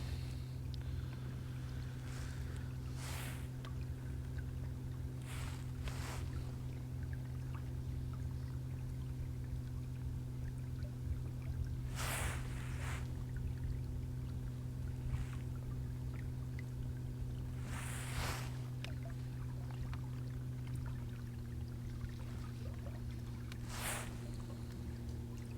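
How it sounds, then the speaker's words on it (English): A boat cruises slowly down the leaf-covered River Ant near Barton Turf in Norfolk, with a steady low engine drone and water wash running throughout, plus occasional brief higher whooshes. "We're just cruising down the river"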